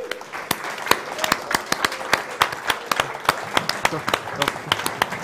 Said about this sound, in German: nochmal einen großen Applaus